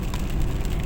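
Steady rain drums on a moving car travelling the international coastal highway near Borg El Arab, Alexandria, a dense hiss over a low rumbling road and engine drone, continuous and close.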